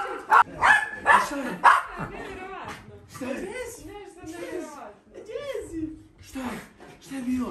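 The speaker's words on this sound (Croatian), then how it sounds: "Pas!" Dog barking in a rural village setting, several sharp barks early on and scattered later, close by and mixed in with ongoing conversation between people.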